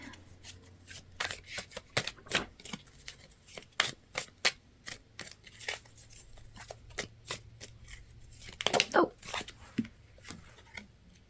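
Repeated crisp riffles of tarot cards being shuffled by hand, in quick bursts with short pauses, close and clear, with a voice speaking at times.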